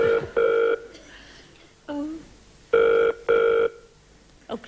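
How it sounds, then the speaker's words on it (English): A landline telephone rings in a 1989 television studio broadcast, sounding two double-ring bursts separated by voices talking, with a short clipped bleep at the end. "Oh, it's ringing."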